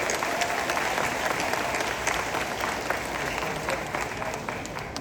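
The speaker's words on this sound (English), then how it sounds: "Let's honor her with a resounding applause." Audience at an ecumenical high school graduation gives sustained applause, a dense wash of many hands clapping at moderate volume, steady for several seconds with faint crowd murmur underneath.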